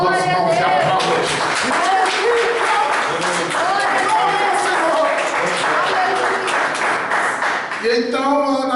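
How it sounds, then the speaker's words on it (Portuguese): A church congregation claps and cheers together during a worship service, a dense wash of applause mixed with voices and music-like tones, loud and sustained throughout. "Quem recebe, levanta as duas mãos e aplaude."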